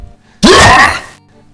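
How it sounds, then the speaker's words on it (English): A short, harsh whooshing burst bursts in loudly and fades within a second: the melee projectile effect from Doom of Mokhaiotl's Delve in Old School RuneScape. "This is the sound of the melee projectile."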